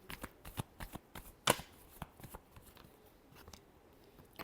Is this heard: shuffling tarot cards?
yes